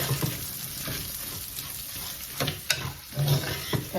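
Two sliced onions sizzle on low heat in olive oil in a pan, a soft steady frying hiss with a few small pops and stirring scrapes close by.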